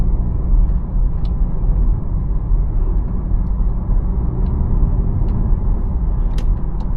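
Interior drone of a VW Golf 7 R-Line with the 1.4 TSI engine and DSG gearbox during a night drive, a steady loud low rumble held throughout with a few faint clicks above it, no talking.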